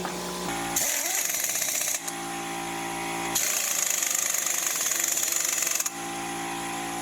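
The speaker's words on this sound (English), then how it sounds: "I'm so sorry about the air compressor noise." Loud, continuous mechanical rattling and hammering drone, close by, with rapid pulsing bursts that start and stop abruptly, like a running air compressor.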